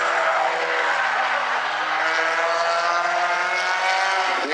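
Stinger figure-8 race cars in an A-Main at South Sound Speedway roar continuously, several engines droning and rising together at close range without a break.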